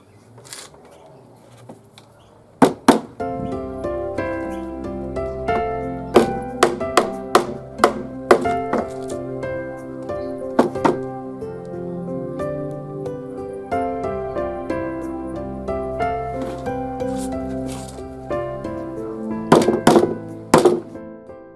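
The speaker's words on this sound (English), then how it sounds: "it's just a matter of finishing off the nailing of the fibro to the timbers" Hammer driving nails through fibro cement sheet into timber lid frames, loud close sharp blows in irregular bursts with quieter knocks and handling noise between them.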